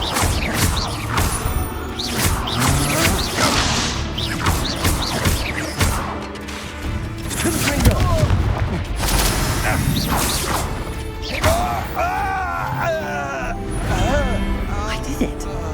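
Confringo spell blasts and impacts crash and whoosh during Hogwarts Legacy combat, buried in a dense, continuous wash of game music and effects, with voices talking over the action.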